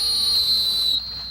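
A dog handler's training whistle at a retriever field trial gives a single sustained shrill tone that cuts off after about a second, fairly loud over faint outdoor hiss.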